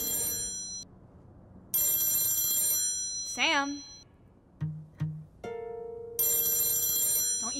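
A telephone bell rings in loud repeated bursts, separated by pauses, as a voice calls out once and other brief sounds fall between the rings.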